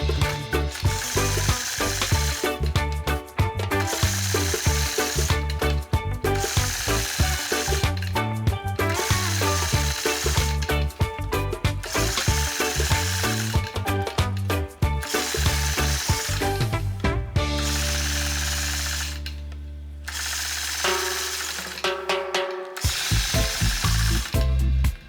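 A quilting machine stitching point to point along a Sway ruler for a double hearts quilt, a loud rapid mechanical needle rhythm running in bursts with brief pauses and a slowing hum near the end.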